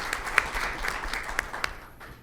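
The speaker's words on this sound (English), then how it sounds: "How about some applause?" An audience at a meeting in Baltimore gives brief applause, with scattered sharp claps that thin out and fade toward the end.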